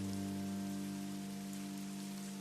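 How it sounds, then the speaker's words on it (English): Steady rain pouring and splashing into puddles, a dense, even hiss of drops throughout, with a low constant hum sitting underneath. "Rain poured and puddles splashed as she stepped through them"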